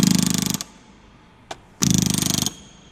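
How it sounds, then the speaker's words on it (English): Aircraft sheet metal is riveted with a pneumatic rivet gun, rivet set and bucking bar, giving two loud, rapid machine-gun bursts of hammering close by, with a brief tap between them. "I'm gonna put my rivet set on there, pushing with about 10 pounds of pressure."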